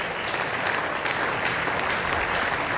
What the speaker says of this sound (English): As you can hear from the members away to the left of our commentary box, applauding.